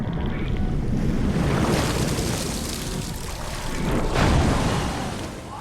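Water splashing and surging in Horizon Forbidden West as waves roll in, a steady broad wash with wind-like noise that swells again near the end, with no voices.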